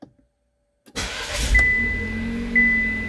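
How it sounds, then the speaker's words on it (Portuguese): A car is started by push-button start-stop: a brief click, then the engine cranks and catches, settling into a steady idle with a high whine layered over it, heard close and alone. "Agora a gente vai ligar o carro com outro toque."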